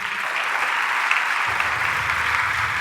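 A church congregation applauds during an intercession service, dense continuous clapping from many hands at even loudness throughout, with a low rumble joining partway through.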